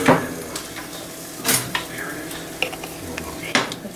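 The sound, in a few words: stirring chicken taco filling in a pot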